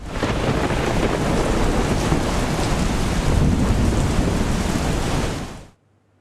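Torrential rain pours down in Palanpur, Banaskantha, as a loud, unbroken roar of heavy rain with a deep rumbling undertone that cuts off abruptly just before the end.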